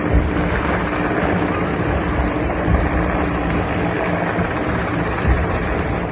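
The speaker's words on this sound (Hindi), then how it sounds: "एयरफोर्स के हेलीकॉप्टर के जरिए पानी में फंसे लोगों को निकालने की कोशिश की जा रही है" An Air Force rescue helicopter flies over flooded Jamnagar, its rotor producing a steady, fairly loud whirring drone with a rhythmic chop throughout.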